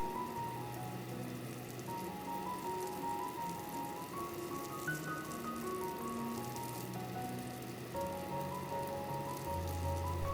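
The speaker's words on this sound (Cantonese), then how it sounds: "開住蓋煎下，咁會脆身啲同埋香口啲" Lotus root patties pan-fry uncovered in oil, giving a steady, even sizzle that holds alone throughout, with soft background music playing beneath.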